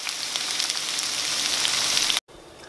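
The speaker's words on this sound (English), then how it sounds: "after a few minutes of caramelizing our onions" Sliced onions caramelizing in a pan for a vegan onion dip give off a steady, dense sizzle, close and even, before cutting out abruptly near the end.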